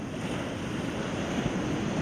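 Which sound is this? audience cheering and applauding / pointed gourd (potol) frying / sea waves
sea waves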